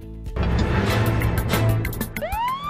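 Siren on a car sounding loudly among traffic noise, ending in a rising electronic whoop.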